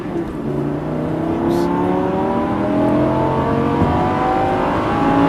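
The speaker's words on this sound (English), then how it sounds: "Okay, now roll in the throttle, full throttle." Lamborghini LP570 Superleggera at full throttle, a loud continuous engine note with rising harmonics as it accelerates, sustained and close throughout.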